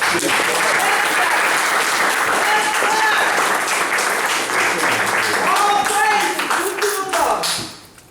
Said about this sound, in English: Let's give our brother ministers another round of applause.